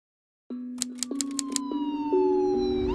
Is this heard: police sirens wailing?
yes